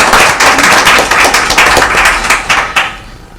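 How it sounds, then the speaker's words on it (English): A round of applause at a school governing board meeting: loud, close clapping from a modest group of people, sharp individual claps audible, tapering off near the end. "I'd like to give a round of applause to Jeanette Mariscal."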